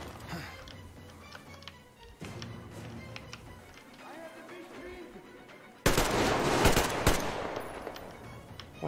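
Enemy gunfire from the video game Metro Exodus comes as rapid bursts of automatic shots, mixed with game ambience. The firing grows louder and denser toward the end.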